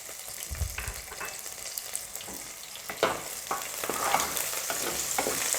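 Panch phoron seeds and cumin sizzle and fry in hot oil, a steady close crackle with occasional stirring clinks, no talking.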